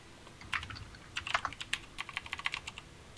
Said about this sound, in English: Okay, thanks for typing that out for me.